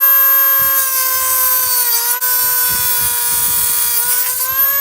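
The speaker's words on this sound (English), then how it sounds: "I could take the Dremel and cut these off" A Dremel rotary tool whines steadily at high pitch, cutting the rivet heads off a tool handle, loud and close and continuous, with a brief dip as the cutting wheel bites into the metal.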